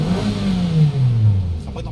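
A 2020 Toyota Vios with a rough idle and low power gives a brief engine rev that swells and then sags back down, with someone speaking nearby.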